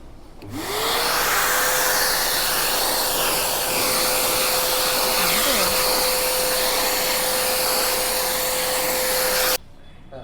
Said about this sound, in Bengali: আমি একটু এবার ভ্যাকিউম করে দেখি সুইচটা অন করি